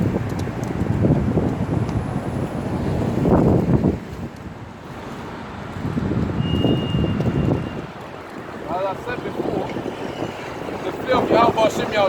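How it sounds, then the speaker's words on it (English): Strong wind gusts buffet an outdoor camp, roaring in surges that rise and fall with brief lulls, loud and close with heavy rumble against the microphone. "Despite it being windy, as you have witnessed just now"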